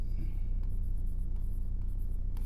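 Chalk or marker scratching across a board as a math proof is written out, a steady scraping texture with a few sharper stroke accents, close and continuous with no talking.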